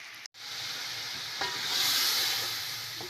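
Onions fry slowly on low heat in a pan, a steady, soft sizzling hiss that swells slightly midway, with a faint stirring scrape and a brief dropout near the start.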